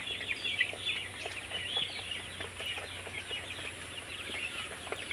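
Broiler chickens raised at home on a floor bedded with rice husk chaff give off a steady, continuous chatter of soft chirps and clucks from a flock, close by and filling the whole stretch without talk.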